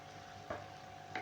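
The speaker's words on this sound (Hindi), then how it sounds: "प्याज को फ्राई करते हुए मुझे तकरीबन 3 मिनट हो गए हैं" Chopped onions frying in oil in a kadhai give a steady faint sizzle, broken by two brief scraping stirs of a utensil against the pan.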